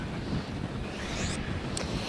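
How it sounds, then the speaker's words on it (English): Whipping storm wind in Boston buffets the microphone with a constant low roar and rushing noise, loud and steady throughout, with no voices. "this storm is dumping rain and also bringing this whipping wind"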